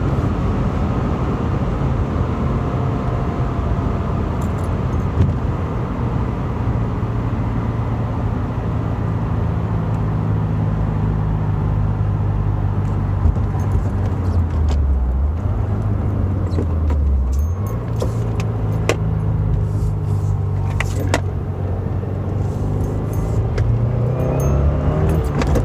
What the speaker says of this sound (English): Fourth gear, almost 100 miles an hour.